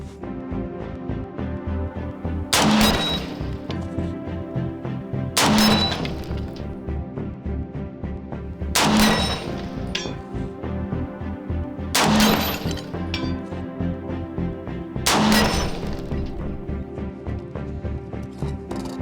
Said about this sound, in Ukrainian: А ось стрільнути на 300 метрів по невеличкому гонгу ну це прямо святе.